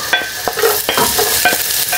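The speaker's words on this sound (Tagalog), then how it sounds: "So, normal na pagigisa ng ating gagawin dito." Garlic and onion sauté in oil in a wok, hissing loudly and close. Quick spatula scrapes and clinks against the metal come in a brisk rhythm, with no voices.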